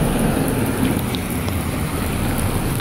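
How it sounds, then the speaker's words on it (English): Heavy rain pouring down outdoors in Oregon after a sunny spell, a steady, dense hiss of rainfall that stays loud and even throughout, with no voices. "literally was sunny a moment ago and now it's pouring rain"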